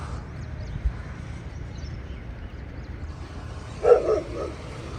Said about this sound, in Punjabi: ਇਹਨੂੰ ਭੌਂਕ ਰਿਹਾ ਸਾਹਮਣੇ ਕੁੱਤਾ ਬਹੁਤ ਡੇਂਜਰਸ ਕੁੱਤਾ ਹੈ